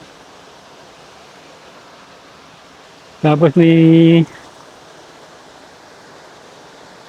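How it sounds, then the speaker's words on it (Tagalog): River water rushes in a steady, broadband hiss near the Alingaro Prinza Dam in Gen. Trias/Amadeo, Cavite, briefly interrupted by a short spoken phrase. "Ito na, meron ditong ilog."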